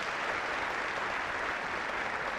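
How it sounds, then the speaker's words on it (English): Applause from the video game Not For Broadcast, a steady, dense hiss of crowd clapping with no distinct individual claps, moderately loud and unchanging for a couple of seconds. "Clappy clapping."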